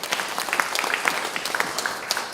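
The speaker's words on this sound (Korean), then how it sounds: "우리 하나님께 영광의 박수 올리겠습니다." A church congregation at an early-morning service claps together, producing a short burst of brisk, scattered applause that fills the room.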